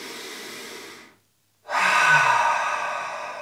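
Breath is heard during a yoga exercise: one exhale trails off into a brief silence, then a deep, audible inhalation follows close up and slowly fades.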